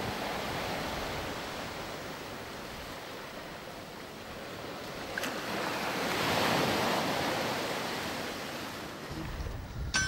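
Sea waves wash and surge off Saint-Marcouf island at sunset, a steady broadband rush that swells louder midway through and then eases, with no voices.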